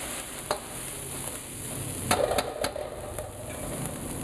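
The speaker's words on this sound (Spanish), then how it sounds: "Entonces es mejor dejar la cebolla bien salteadita." Onion sautés in a pan while robalo with shrimp is being cooked. A soft, steady sizzle carries through with scattered clicks and stirring taps, and no voices are heard.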